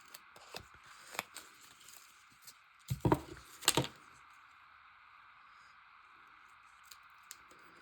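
Scissors cut a piece of paper for a collage, giving a few quiet snips, with a pair of sharper cuts close together midway, then near silence.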